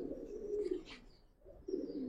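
Giribaz pigeons in a loft cooing in low, rolling phrases, two clear coo bouts with a short pause between, close and steady over a quiet background.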